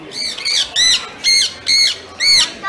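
Six loud, harsh squawks from a small pet bird nearby, each short burst separated by brief pauses in an uneven rhythm.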